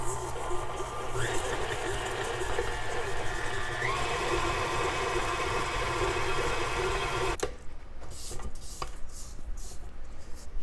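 A KitchenAid stand mixer mixing banana bread batter, a steady close motor whir with rhythmic beating that stops abruptly partway through, followed by quieter kitchen handling.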